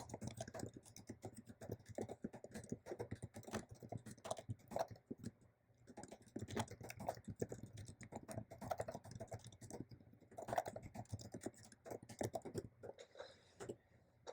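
Someone types a message on a computer keyboard, with quick, irregular key clicks in bursts and short pauses, close and fairly quiet, with no talking.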